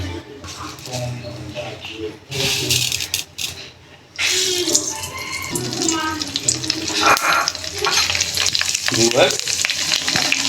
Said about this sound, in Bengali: দেখতেই পাচ্ছেন ফুটন্ত তেলে দিয়ে দিলাম।